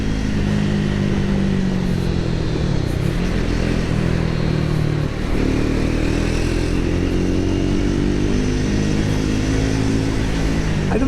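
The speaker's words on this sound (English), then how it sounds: "it just feels like this motorcycle is a slower revving motorcycle than the Himalayan" A Triumph Speed 400 motorcycle engine drones loud and close while riding, holding a steady throbbing note with gentle rises and dips in revs and constant wind rush.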